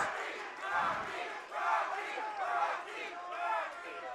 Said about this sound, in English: Again, the crowd comes alive.